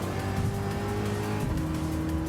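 Sustained engine roar of a 1966 Ford GT40 Mark 1 race car accelerating down a long straightaway in a racing video game, loud and steady with the pitch climbing through a gear shift.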